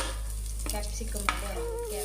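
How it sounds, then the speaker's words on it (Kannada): Cabbage and capsicum stir-frying in a pan, with a soft steady sizzle under a low background hum and a few light scraping stirs, one sharper clink near the middle. "ಇದು ಸ್ವಲ್ಪ ಫ್ರೈ ಆಗಿ, ಜಾಸ್ತಿ ಫ್ರೈ ಆಗಬಾರ್ದು, ಕ್ರಂಚಿ ಥರ ಇರಬೇಕು ಸ್ವಲ್ಪ."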